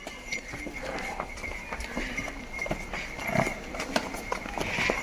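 A buffalo's hooves clop steadily on hard ground as it walks nearby, with a faint background hum and scattered outdoor noise.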